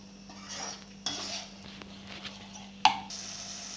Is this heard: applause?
no